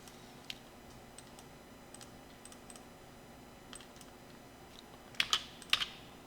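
Computer keyboard typing during a PLC on-delay timer programming demo, a few scattered light key clicks followed by two louder, sharper key presses near the end, likely the Enter key, close and alone with no talk.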